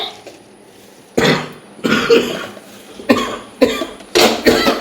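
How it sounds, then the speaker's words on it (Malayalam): A man coughing during a rainy season, a series of about five harsh, close bursts spaced roughly a second apart, with quiet gaps between them and no talk. "ചേട്ടന് ചുമയാണ്"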